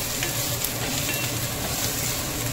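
Browned onion with garlic, cumin and ginger paste sizzles loudly in oil, a dense continuous crackle with soft stirring scrapes underneath.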